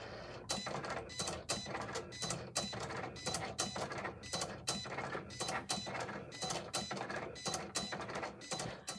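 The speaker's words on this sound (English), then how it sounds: "And then we're going to hit the flashing C. And then Cricut's going to do its thing." A Cricut Explore Air 2 cutting machine works through rhinestone flock with a quiet, steady, rhythmic run of mechanical whirs and clicks as its carriage moves back and forth.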